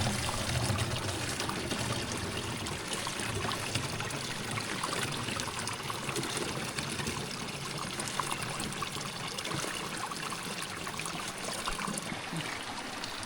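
Cold water pouring steadily into a bottle outdoors in Kashmir's green countryside, a continuous close gushing and trickling stream with no talking.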